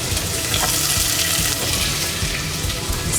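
Onion sautés in a pan with a steady, close sizzling hiss and faint scraping, no talk over it.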